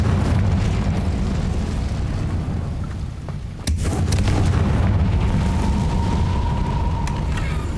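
A Confringo fire spell explosion in the video game Hogwarts Legacy: dense rumbling blast texture with a sharp, sudden burst at the midpoint followed by crackling and a thin ringing tone, loud and close.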